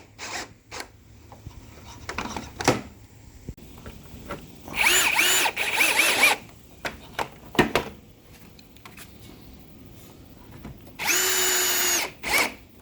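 A power drill with a ground-down Allen wrench bit drives bolts while a Hampton Bay Woodford patio set is assembled. Several short, loud whirring bursts of varying length are separated by clicks and handling noises.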